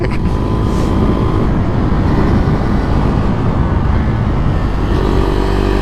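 A 2022 Husqvarna Vitpilen 401 single-cylinder motorcycle being ridden, its engine droning loud and steady throughout with constant wind and road roar, no talking.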